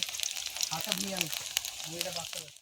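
Onion leaf pakoras fry in oil at a village gathering. A soft, fairly distant sizzle runs under nearby voices talking through the brief moment.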